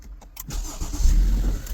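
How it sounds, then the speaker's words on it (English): A 2020 Acura ILX engine cranks and catches after a few faint clicks, settling into a loud, steady low rumble close by, with no talking. "Engine is running."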